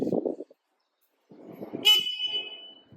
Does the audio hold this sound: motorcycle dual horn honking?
yes